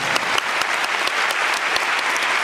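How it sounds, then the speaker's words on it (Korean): Audience applauding Kim Minseok at a musical concert curtain call, a steady, dense wash of clapping filling the whole stretch at an even level. "김민석 분께 큰 박수 부탁드리겠습니다"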